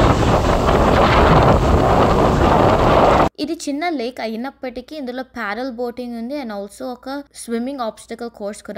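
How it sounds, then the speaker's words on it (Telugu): Strong wind gusts roar hard against the microphone at a small lake for about three seconds. It then cuts abruptly to a person talking in calmer air. "ఒకసారి మీరు ఈ విండ్ సౌండ్స్ని వినండి"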